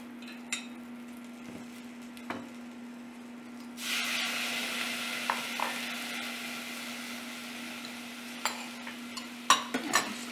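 Blueberries and monk fruit sweetener cook in a pan over medium heat, with a soft, low bubbling hiss that grows steadier partway through and is broken by a few light stirring clicks.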